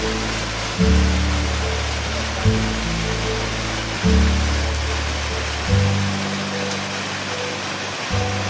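A waterfall roars as a broad, steady wash of falling water at a landscape photography spot, with low-end bumps and thuds from handling recurring every second or two.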